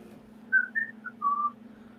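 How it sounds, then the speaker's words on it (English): A person whistles a short tune of four clear notes, the last one held longest, close and alone over a faint steady hum. "As he whistles"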